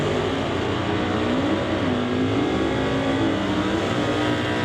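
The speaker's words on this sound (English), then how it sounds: "Chevrolet hightailing it down the racetrack." A straight-axle Chevrolet drag car runs down a drag strip at a racing event, a continuous loud engine roar that rises slightly in pitch as it pulls away, heard steadily throughout with no talk.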